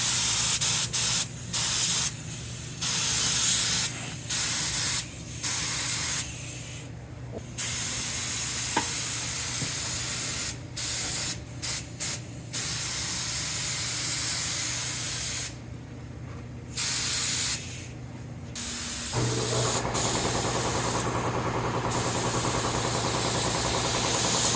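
Car body spray painted with Rustoleum Fire Red thinned with lacquer thinner, a loud hissing spray gun in repeated bursts of several seconds separated by short pauses, with a fan running underneath.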